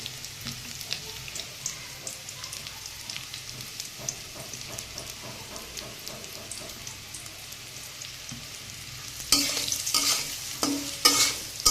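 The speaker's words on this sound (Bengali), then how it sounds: "কচুটা একটু বেশ ভালো করে ভাজতে হবে।" Taro pieces frying in oil in a pan on a home stove, a steady soft sizzle with scraping stirs throughout, growing louder near the end.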